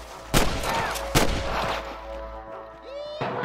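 Gunfire in the Red Dead Redemption video game: two sharp, loud shots about a second apart with ringing decay, then a quieter third report near the end over a steady low rumble of game ambience.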